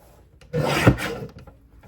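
A single quick rasping slice from a paper trimmer cutting a sheet of 12 by 12 scrapbook paper, close and fairly soft, lasting under a second amid quiet.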